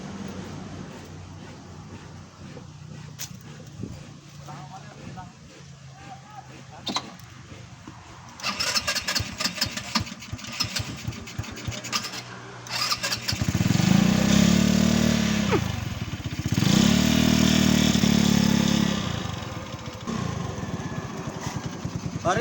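Motorcycle engine starts after some clattering and handling noise, then revs hard in two long sustained bursts that rise and fall loudly up close, followed by a lower idle.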